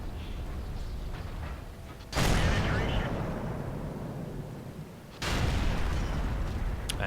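Two heavy booming shots from a tank's main gun in the World of Tanks video game, each a loud blast with a long, rumbling decay over a constant mechanical drone, with a voice talking.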